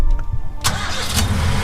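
A car engine cranking and catching, a sharp burst of starter noise followed by a rising mid-pitched engine rumble as it begins to pull away, close and loud.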